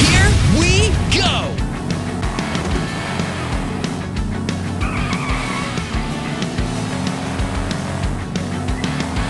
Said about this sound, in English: Pull the launcher all the way back to get your car going.